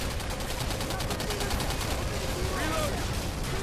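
Rapid gunfire in the video game Singularity, a continuous stream of shots at steady level with game sound effects layered over it, fairly loud and close.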